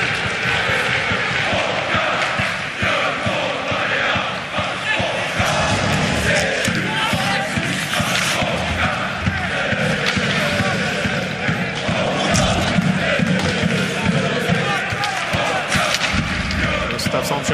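An ice hockey arena crowd at a Swedish SHL game between Luleå and Brynäs roars and cheers steadily from the stands, a dense loud wall of noise with puck and stick clatter beneath and a commentator speaking over it.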